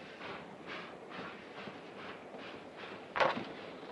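A passenger train near Buffalo runs along the rails in a steady rumble with a soft rhythmic clickety-clack, ending in a brief sharp hiss or clank near the end, with no talk.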